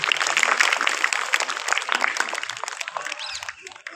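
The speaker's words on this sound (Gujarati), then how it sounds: "એને પણ આપણે તાળીઓથી વધાવી" Applause from an audience at a school prize-giving ceremony, honoring a student who placed first, with steady dense clapping that thins and fades toward the end.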